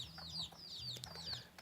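A chicken clucks softly in a few short calls, close but quiet, with chirping birds in the background.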